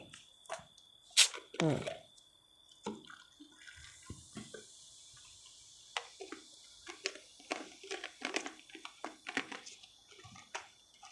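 Fizzy alcohol-free, zero-sugar yogurt soju soda is poured, giving a faint liquid splash followed by quiet, scattered crackling fizz up close, with occasional speech.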